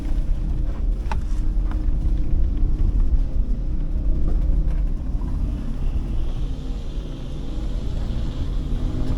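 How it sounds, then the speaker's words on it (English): A car drives along a bumpy countryside road in Jamaica, giving a steady low rumble with wind buffeting the microphone and occasional knocks and rattles from the rough surface, with no talk. "Bumpy road."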